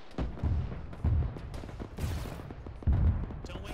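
Gunfire in a military video game, several heavy booming shots spaced roughly a second apart, loud and close, with scattered noise between them and no clear talk.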